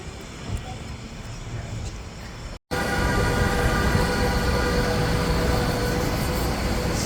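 A New York City 5 subway train rides along with a loud, steady rumble and rattle, a broad roar that briefly cuts out, then returns even louder and continues without pause.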